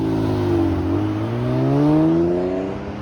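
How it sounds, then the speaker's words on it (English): A loud car engine passes nearby on a suburban street, its revving drone swelling as it approaches, with rising harmonic tones that peak and then fade as it moves away. "Is this one of those loud cars?"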